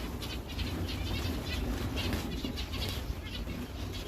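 Pigeons flap their wings in repeated soft bursts close by as they gather around freshly poured feed, with faint cooing in the background and no talking.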